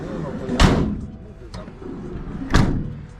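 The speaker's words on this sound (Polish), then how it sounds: "drzwi z tyłu zamknij ty, bo byśmy tak pojechali" Car back door closed, two heavy slamming thuds a couple of seconds apart with a lighter knock between, close and loud.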